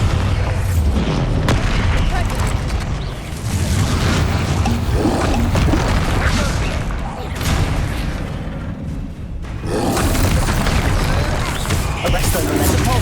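The Bombardo explosion spell cast in Hogwarts Legacy, heavy booming blasts and rumbling impacts that fill the scene, loud and dense, with a spoken voice mixed in among the explosions.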